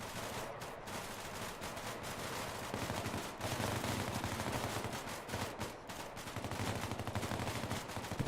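A squad shoots together in a military video game, firing sustained rapid automatic bursts with a few brief pauses. The shooting stays dense and moderately loud throughout with no talk over it.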